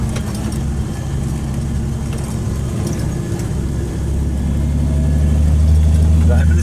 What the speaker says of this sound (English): Driving the old school Jeep.